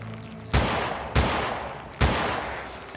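Three loud, sharp gunshots ring out at an enemy in the survival horror game Holstin, roughly half a second to a second apart. Each blast decays into a lingering reverberant tail.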